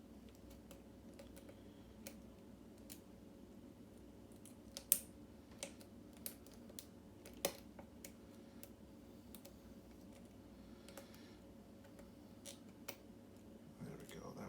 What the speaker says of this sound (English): I'm getting clicks, but nothing.